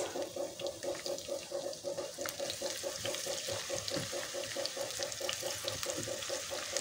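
Onions cooking in about three spoonfuls of soybean oil for mutton rogan josh give a steady, even sizzle with a faint repeating pulse, fairly quiet and continuous with no talking.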